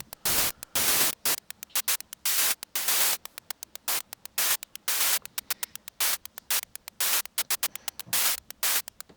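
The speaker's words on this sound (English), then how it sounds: "If we switch over to the high pass filter, we can make this sound a little bit more like a hi-hat too." Bright, hissy hi-hat hits synthesized on a Synthstrom Deluge through a high-pass filter, fast choppy rhythmic bursts of noise repeating steadily throughout.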